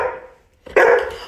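A small dog lets out one loud, sharp bark up close after a brief quieter whine.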